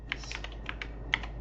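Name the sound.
typing sfc command on computer keyboard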